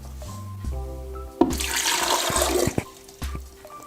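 Water being poured and measured out, 240 ml, for a salad dressing made in an Optimum Vac 2 Air vacuum blender, a close splashing gush rising for a couple of seconds between clunks and clicks.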